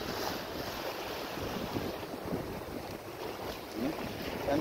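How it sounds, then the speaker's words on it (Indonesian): Strong wind at the seaside near a fishing area, buffeting the microphone in a constant roar with a wash of waves underneath and no voices. "Wow, anginnya kencang guys."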